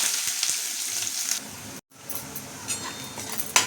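Onion sizzling in hot oil with garlic already golden in the pan, a steady close frying hiss with a brief gap and small crackles as the onion is stirred.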